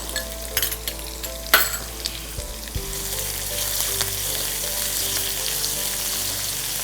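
Finely chopped garlic, round-sliced green chili and minced ginger sauté in hot oil with a constant crackling sizzle, while a few sharp clinks of a spoon against the pan come early on.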